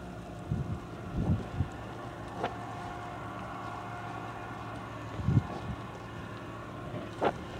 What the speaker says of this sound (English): Looks like the wind picked up.